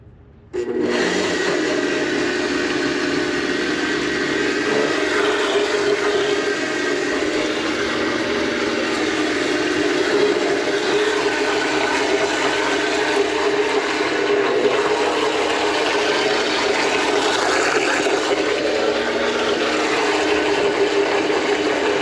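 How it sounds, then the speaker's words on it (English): A blender motor whirs steadily at low speed, a continuous loud mechanical drone from start to finish with no talking. "going to turn the blender on low."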